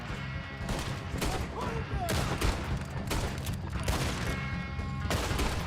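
Gunfire in the Red Dead Redemption 2 video game, a dense, continuous barrage of overlapping shots with no pauses, loud and sustained throughout.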